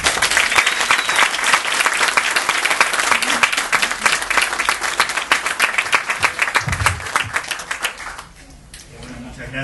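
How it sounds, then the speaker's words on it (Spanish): An audience applauds loudly at a book launch presentation, dense, continuous clapping that tapers off near the end, where a voice briefly begins. "Así que lo dejo con Gabriel, por favor, un aplauso."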